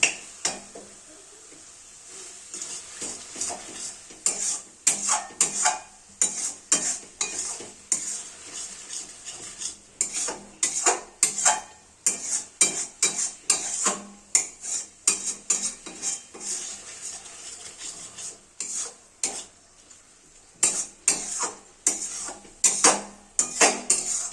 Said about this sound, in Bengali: লবণ ও টমেটো খুব ভালোভাবে মাখামাখি করে নেব